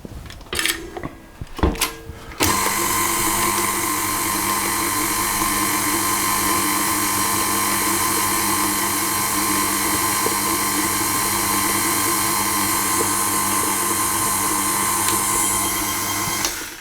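An electric mixer gives chocolate crinkle cookie dough a final mix. A few clatters and knocks open it, then a loud steady motor whine with a constant pitch runs to the end.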